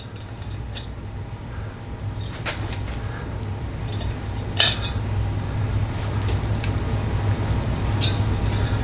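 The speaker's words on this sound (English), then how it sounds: "grab like a knife and just poke out the obstructions" A knife poking and scraping obstructions out of a Rinnai RL series heater fan, with sparse sharp metallic clinks and taps over a steady low hum, close by.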